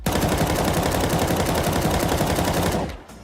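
Rapid automatic rifle fire in the Counter-Strike 2 beta, a loud continuous burst of closely spaced shots lasting nearly three seconds before it cuts off and the tail fades out.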